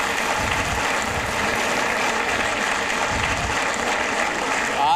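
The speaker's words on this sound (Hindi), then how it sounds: "ताली बजा कर स्वागत कीजिए" Studio audience applause on a Hindi television talk show, a continuous, fairly loud and even roar of clapping lasting several seconds, with no speech on top.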